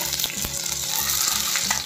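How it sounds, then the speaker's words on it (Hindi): Chopped onion fries in hot mustard oil, a dense bright crackling sizzle running steadily throughout with occasional stirring knocks, close up and without talking. "अब हम इसमें कटी हुई प्याज ऐड करेंगे।"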